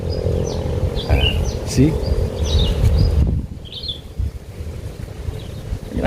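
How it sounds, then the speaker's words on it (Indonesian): Wild birds chirp and call back and forth outdoors among rice fields, as scattered short high chirps in the distance beneath people talking nearby. "bunyi ini, kicau burung-burung liar ini bersaut-sautan"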